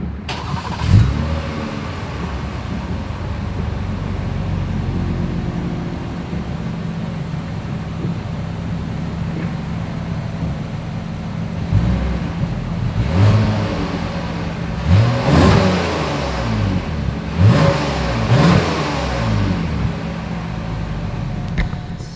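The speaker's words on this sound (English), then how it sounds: "As always, here is that exhaust clip." A 2022 Lexus ES 350 sedan idles with a steady exhaust drone, then its engine is revved several times in quick, rising bursts that fall back to idle, loud and close at the rear.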